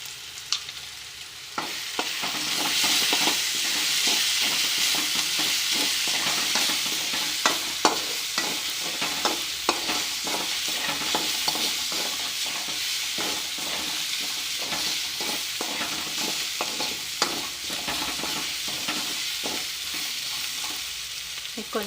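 Potato curry frying in a pan with chili powder, a loud continuous sizzle broken by frequent sharp scrapes and clacks of a spoon stirring, close up.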